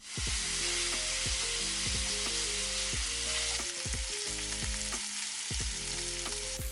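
Ground lamb sizzles in its own fat in a non-stick pan over medium heat, a loud continuous close hiss with spatula strokes scraping at intervals and no talk.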